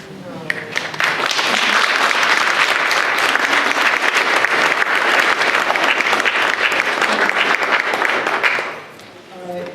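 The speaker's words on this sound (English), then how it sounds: "Another round of applause." A panel audience in a hall bursts into sustained, loud applause that fills nearly ten seconds with dense clapping before tapering off near the end.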